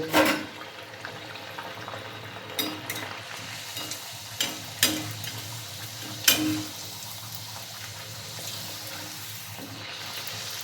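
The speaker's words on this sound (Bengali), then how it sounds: "এবার লুচিগুলো একটা একটা এর মধ্যে দিয়ে দেব দিয়ে ভেজে নেব" Semolina luchi fry one by one in hot white oil in a wok, a constant close sizzle and bubble with occasional sharp crackles and spatters as pieces go in and are turned.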